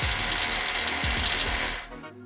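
A ratchet clicks rapidly as masonry bolts are driven through a bracket into a basin wall, bursts of close mechanical ticking with brief pauses between strokes before stopping near the end.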